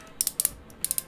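The hip joint of a Transformers Alternity Convoy toy ratchets in quick, crisp plastic clicks, about nine in a second, heard close up in two short runs.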